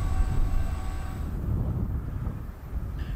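A train rolling past beneath a railway signal bridge, a continuous low rumble of wheels and wagons with faint tonal hum, heard alone with wind buffeting.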